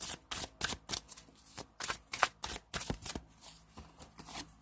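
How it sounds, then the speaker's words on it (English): Tarot cards are shuffled and flipped over in a quick series of sharp, papery riffles and snaps, close and fairly quiet, with no voices. "Oh, as all the cards turn over."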